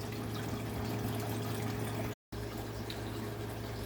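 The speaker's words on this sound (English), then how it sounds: "You shut it off and then you turn it back on and your water flow starts" Water rushing steadily through a Hygger aquarium water changer, a dense continuous gush with a low hum that cuts out abruptly for a moment when it is shut off, then resumes at full flow.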